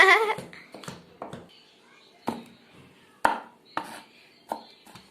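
Garlic being chopped on a board in a home kitchen, a series of sharp knife taps spaced irregularly, some in quick pairs, close and clear with brief pauses between strikes.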